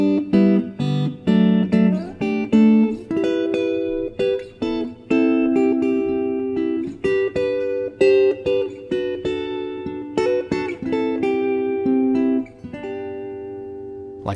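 A guitar chord melody of a song, played solo with plucked chords and a singing top-line melody in steady rhythm, close and clear with no voices.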